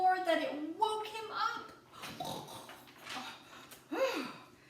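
A storyteller's voice imitates a dog's big snore, giving a series of breathy, snorting, wheezing noises with rising and falling pitch, close and fairly loud.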